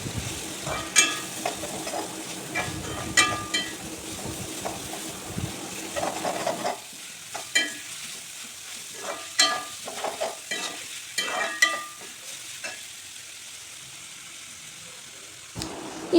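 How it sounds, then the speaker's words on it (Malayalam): Sliced onions and green chillies sauté in a pan for a Kerala-style chicken curry, with a sizzle that is strong at first and then eases. Repeated close scraping stir strokes run throughout. "ഇതും നമുക്ക് നന്നായിട്ടൊന്ന് വഴറ്റിയെടുക്കണം."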